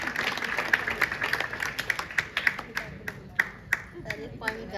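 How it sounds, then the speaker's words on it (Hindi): Enthusiastic applause for a girl named Riya at a school selection event, a crowd clapping in quick scattered bursts that gradually thin out, with a speaking voice over it. "तो रिया के लिए जोरदार तालियां।"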